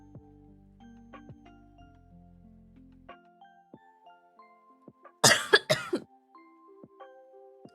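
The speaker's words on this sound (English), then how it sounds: "Just don't want you guys to hear the coughing fit." A short burst of harsh, dry coughs comes close up, several in quick succession, standing out against soft background musical tones.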